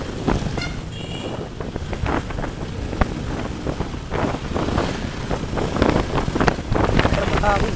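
Constant wind buffeting rushes over a microphone while riding a motorcycle, with rumbling gusts and a faint engine beneath, loud and close throughout.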